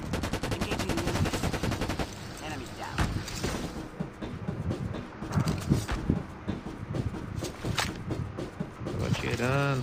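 Video game gunfire rattles in rapid automatic bursts and scattered single shots, loud and continuous, with players talking over it.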